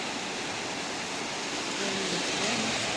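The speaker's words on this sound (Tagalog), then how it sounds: "Yan yung alon na yan." Ocean surf at the shore: a steady, full wash of breaking waves and spray, close and loud, with no voices and no pauses throughout.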